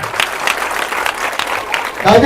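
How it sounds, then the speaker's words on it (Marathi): A crowd applauds at a Dahi Handi festival celebration, with steady clapping running throughout and a loudspeaker voice talking over it. "त्यांच्यासाठी एकदम जोरदार टाळी द्या"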